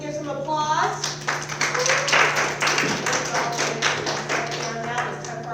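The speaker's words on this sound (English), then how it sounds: "Let's give some applause." Scattered applause from a student audience at a student government debate, a modest patter of claps under ongoing talk and a steady hum.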